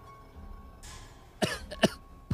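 A young woman coughs in a Tagalog horror story narration: a soft whoosh, then two or three sharp, close coughs in quick succession and a final short cough, with no speech over them.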